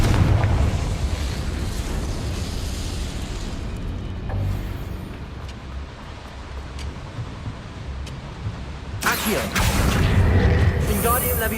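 A Confringo spell blast in Hogwarts Legacy brings a dense, rumbling explosive roar during combat, with a steady churning low din that swells again near the end.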